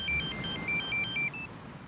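A phone ringtone rings in a repeating series of bright electronic tone bursts, several short pulses in a row, loud and clear with no one speaking over it.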